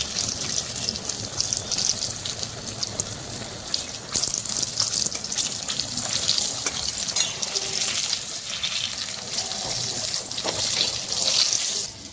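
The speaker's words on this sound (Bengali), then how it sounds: "আমি একদম অল্প আছে ধীরে ধীরে ভেজে নিচ্ছি।" Chicken pakoras fry slowly in a small amount of oil for a Bengali fried chicken leg recipe, giving a steady, continuous hiss and crackle close up that lasts throughout, with no talking.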